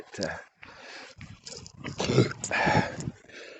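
A dog squeaks and whimpers in brief high-pitched bursts, fairly close and partly under a person talking, with short pauses between the sounds.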